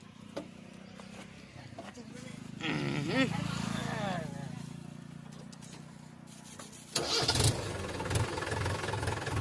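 Heavy tractor engine cranks and rumbles into life, settling to a low idle, then revs louder near the end, with people talking over it.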